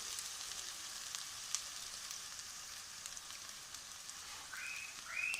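Onions and spices frying in a karahi pan for chicken karahi, a faint steady sizzle with a couple of brief higher hisses near the end.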